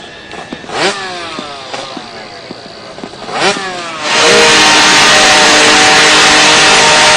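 A motor vehicle engine passes and revs a few times, then settles into a loud, steady, close running drone for the remaining seconds.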